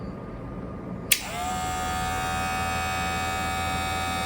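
Kemei KM 517 cordless electric shaver switched on after a sharp click, its motor settling into a steady, close, smooth high-pitched whir that holds to the end.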